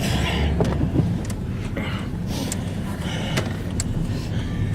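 A car driving along with a steady low road and engine rumble filling the whole stretch, with occasional bumps and creaks from inside the cabin; voices are faint or absent.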